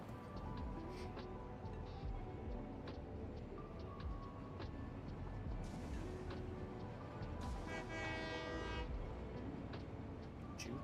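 A locomotive-hauled train runs through the Satisfactory game world, a dense steady rumble of wheels and machinery with scattered clanks and a brief higher horn-like tone near the end, continuous and fairly close with no speech.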